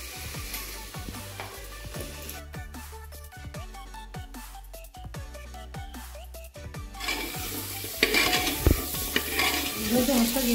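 Ground spices, including coriander and cumin powder, fry in a pan while being stirred, with a steady close sizzle and regular scraping and tapping of the spoon that grow louder toward the end.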